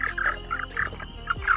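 Gray tree frogs croak in a close chorus, a rapid string of overlapping trilled calls that stays loud and busy throughout the short stretch.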